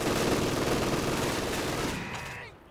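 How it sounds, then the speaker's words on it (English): A rifle grenade fired amid a dense, loud barrage of battlefield gunfire and blasts in the World War II strategy game Company of Heroes, steady and close before trailing off near the end. "we can fire a rifle grenade into there"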